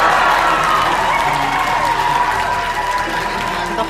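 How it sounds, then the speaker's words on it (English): Conference room audience cheering and applauding the Dragonfly New Frontiers mission announcement, a loud, steady wash of clapping and shouting voices that holds for several seconds. "everybody jumped out of their seats and was screaming and cheering and so excited"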